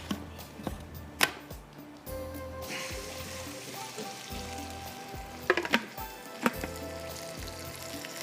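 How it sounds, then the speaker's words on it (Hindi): Masala spices with fenugreek fry in a pan for kofta aloo, a steady close sizzle broken by sharp utensil knocks and stirring scrapes, with a burst of louder hissing partway through. "बस थोड़ा सा ये मसाला भून रहा है, मसाला तैयार हो जाएगा"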